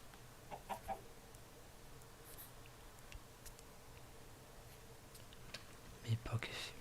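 Chickens cluck softly at a farm, with faint scattered calls over a quiet outdoor background and a couple of louder clucks near the end.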